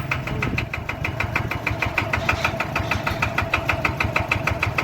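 A farm tractor engine idles close by with a loud, steady knocking chug, each firing pulse repeating rapidly and evenly without letup.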